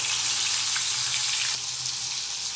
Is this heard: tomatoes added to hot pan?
yes